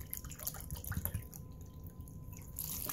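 Water is poured into a pot of rolled grape leaves, giving soft dripping and splashing in uneven bursts, fairly faint and close, with no voice.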